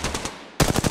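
Rapid automatic gunfire in the mobile shooter Apex Legends Mobile, a brief faint burst followed by a loud, close volley of dense shots.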